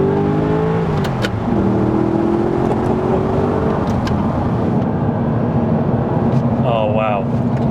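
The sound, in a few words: Audi R8 driven hard on country roads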